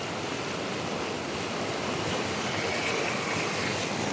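Heavy floodwater rushes through a swollen stream in Anantapur during rain, a dense, continuous roar of turbulent water that stays loud and steady throughout, with no voices.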